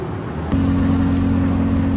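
A 700 hp AWD Honda Civic drives with a loud, steady engine drone that steps up abruptly as throttle is applied partway through, the pitch then holding level.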